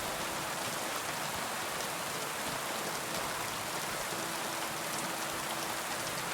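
Steady rain pours in the medieval role-playing game Kingdom Come Deliverance 2, a dense, even hiss of falling water that continues without pause, moderately quiet and with no voices over it.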